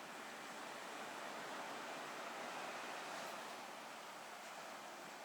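Calm ocean at a fishing village in Chilaw, Sri Lanka, heard as a steady, soft wash of surf with no distinct waves breaking and no voices.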